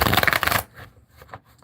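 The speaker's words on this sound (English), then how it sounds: "Now let's shuffle." A tarot card deck is shuffled up close, a quick burst of riffling, flapping card noise for just over half a second. A few soft taps and handling sounds follow.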